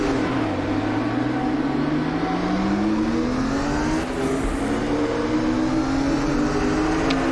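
A Porsche 911 RSR race car engine in the RaceRoom racing game at Brands Hatch roars steadily, its pitch climbing through long accelerations with a gear change midway, loud and continuous with no talking.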